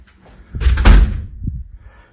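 A hotel room wardrobe door is opened and closed, giving a close, fairly loud wooden thud with a rattle, then a smaller knock, all in a quiet room.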